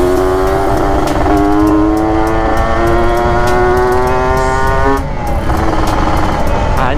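A Kawasaki Ninja RR two-stroke motorcycle runs while riding, its engine holding a loud, steady, buzzing drone close by, with pitch wavering and dipping briefly before resuming.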